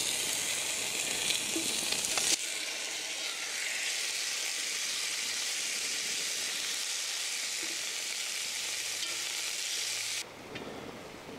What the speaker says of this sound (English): So I can sear the unseasoned meat.